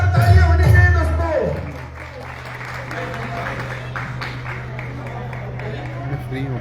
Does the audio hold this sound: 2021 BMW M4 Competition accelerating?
no